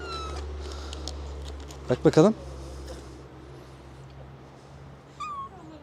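A person speaks softly while a stray cat gives a short rising meow nearby, followed later by a fainter brief cry over a low steady hum.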